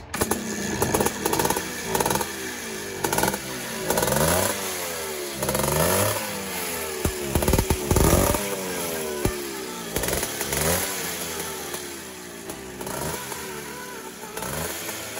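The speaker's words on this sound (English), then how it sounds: "footage from a few days ago when we actually did get this thing running" A 1974 Yamaha DT360 motorcycle engine runs close by, revving repeatedly in uneven bursts with a raw exhaust note and mechanical clatter, the throttle blipping up and down throughout.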